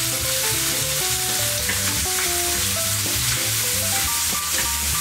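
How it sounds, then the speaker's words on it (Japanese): Bacon sizzles steadily in a pan while carbonara is being made, a constant close crackle heard under background music. "でここからベーコンも入れたいと思います。"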